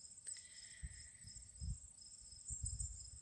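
Crickets chirp in a steady high-pitched trill, faint and continuous, with a few soft low thumps beneath.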